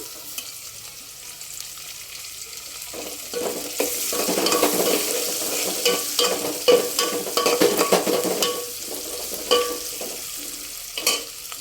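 Green chillies frying in hot oil for a spicy chicken pulao, a soft sizzle that grows louder as a spoon stirs and scrapes the pan in irregular clattering strokes, with no talking.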